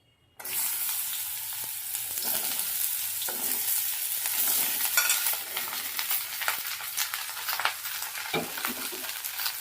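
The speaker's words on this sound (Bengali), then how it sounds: "এবার এই যে কেটে রাখা পটলগুলো দিয়ে দেব অল্প অল্প করে" Cut pointed gourd pieces drop into hot oil that has been heated until smoking, bursting into a loud, steady sizzle that carries on evenly, with faint scraping and no voices.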